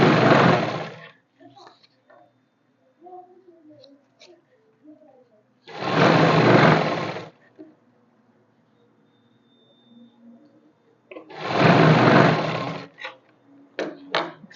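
A sewing machine stitches fabric for straight pants in three short, loud bursts of about a second each, spaced several seconds apart, with faint talk and small handling noises in the quiet gaps.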